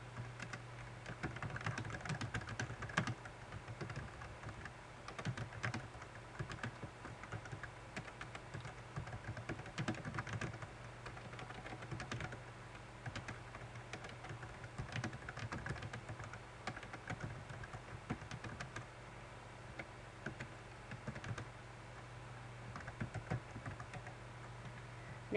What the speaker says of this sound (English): Now I can type my text.